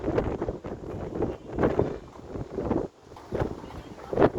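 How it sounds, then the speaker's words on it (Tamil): Strong wind on a hilltop near a Shiva temple at Thirukkazhukundram near Chennai, buffeting the microphone in loud, uneven gusts throughout with a brief lull partway through. "இதமான காற்று"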